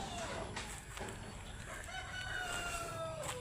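Chickens crow and cluck faintly in the distance on a farm, thin calls rising over a steady low background hiss.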